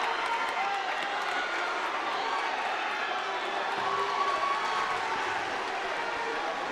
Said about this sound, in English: Wakefield cheering.